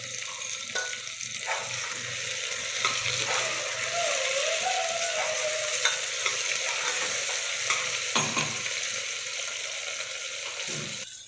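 Steady, close sizzling of onions frying in a pan, with occasional scraping and light clinks from stirring throughout; no one speaks.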